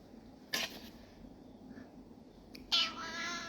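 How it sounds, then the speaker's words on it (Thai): A cat lets out two short, sharp meows a couple of seconds apart while being picked up indoors, close and clear over quiet room noise. "สมศรีเป็นแมวตัวเดียวที่ไม่ชอบให้อุ้มเลย"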